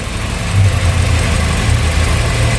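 A Nissan X-Trail engine idles after its revs have dropped, giving a steady, close, low rumble with an even vibrating hum and no talk over it.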